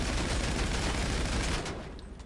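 A submachine gun in a GTA video game fires a dense, continuous burst of rapid shots, loud and close, before the volley cuts off and fades into quieter game ambience.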